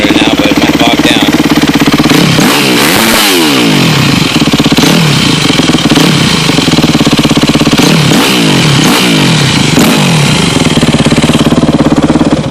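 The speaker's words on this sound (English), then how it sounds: "Alright, I'll try the rev limiter now, but it might bog down." A Yamaha YZ250F dirt bike engine, loud and right up close, is revved hard over and over toward the rev limiter, its pitch surging and dropping between stretches of rattling idle.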